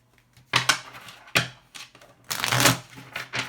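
Sibila tarot cards are shuffled in quick bursts of papery riffling and flicking, close and fairly crisp, with short pauses between handfuls and a longer rush of shuffling toward the end.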